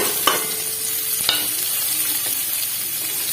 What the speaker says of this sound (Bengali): আমি পেঁয়াজগুলো দিয়ে দিচ্ছি পেঁয়াজগুলো ভালো করে কষিয়ে নেবো